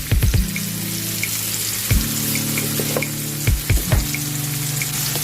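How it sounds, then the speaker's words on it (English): Mushrooms sizzle steadily in a hot pan with salt and onion powder, a continuous frying hiss broken by a few low knocks and clatters of stirring, close and without talk. "Saute these down till they're nice and tender."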